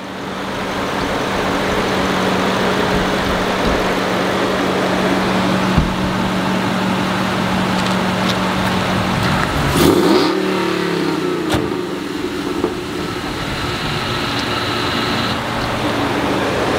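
A 2021 Ford Ranger Raptor engine runs at a steady drone, then swells into a sweeping rev near the middle before settling back to an even hum.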